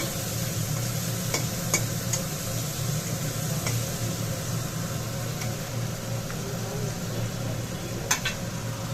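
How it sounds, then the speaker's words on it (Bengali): Brinjal frying in hot oil in a wok gives a steady, moderate hiss and sizzle with a few faint clicks and pops scattered through it, close by and without speech. "কড়াইতে তেল গরম করে বেগুনটাকে হালকা করে ভাজা ভাজা করে নিই"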